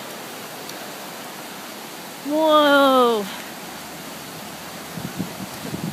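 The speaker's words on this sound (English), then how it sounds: "This is our little creek. It is now a freaking lake." A small creek in Lafayette, Colorado, swollen into a lake by a 100-year flood, gives off a constant, even roar of rushing water throughout, while a man briefly calls out over it.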